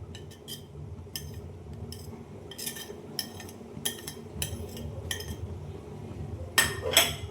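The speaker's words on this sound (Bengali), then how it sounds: "ভালোভাবে একটু পোলাওয়ের সাথে মিশিয়ে নেব।" A spoon scrapes and clinks against a cooking pot while fried carrot, capsicum and crisp onions are stirred into pulao, with irregular metallic knocks and scrapes in a steady rhythm, close and clear, growing louder toward the end.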